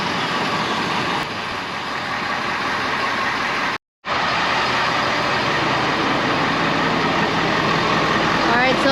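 A Ford F550 Thor Magnitude Super C RV engine idles steadily to warm up, a constant broadband rumble with a brief dropout midway, while voices talk over it.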